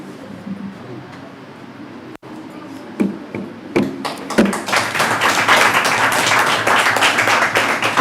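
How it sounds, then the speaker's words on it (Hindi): An audience applauds at an honouring ceremony during a story-writing workshop. Scattered claps give way to thick, loud, sustained clapping that fills the room and keeps going to the end. "तालियों की गड़गड़ाहट कम नहीं होना चाहिए।"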